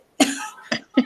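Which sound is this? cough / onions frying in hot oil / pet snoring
cough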